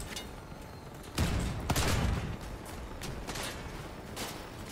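Gunfire in the Crossout vehicle combat game, with bursts of shots and mechanical clanking over a steady engine-like rumble, a louder stretch near the start then continued intermittent firing.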